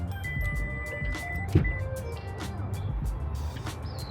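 A 2024 Subaru Levorg STI Sport's power liftgate whirs with a thin electric motor whine, a few light clicks and a soft thump midway, heard close up against faint background noise.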